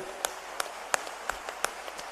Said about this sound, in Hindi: तालियों की गड़गड़ाहट से हम इन दोनों का स्वागत करें